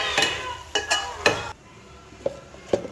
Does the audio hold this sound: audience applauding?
no